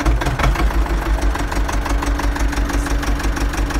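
A Ursus C-330 diesel tractor engine runs loud and close with a steady rhythmic chugging pulse, as if the throttle is being raised above idle.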